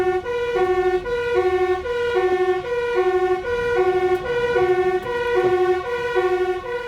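A fire engine siren wails in a fast two-tone pattern during an emergency drive through Venlo traffic, loud and continuous with a faint engine rumble beneath.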